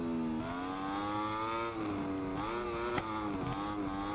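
A superbike engine screams at high revs at the Catalunya circuit in the video game SBK 22, a loud continuous whine that dips briefly on gear changes and climbs again.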